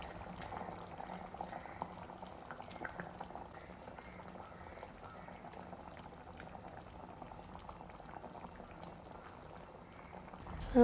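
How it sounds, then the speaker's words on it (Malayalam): Squid curry for a Kerala-style squid roast bubbling steadily in a pan, a soft continuous simmering hiss with faint stirring clinks, quiet and close, with no talking. "അപ്പോൾ നമ്മുടെ കറി ഇവിടെ തിളച്ച് തുടങ്ങിയിട്ടുണ്ട്."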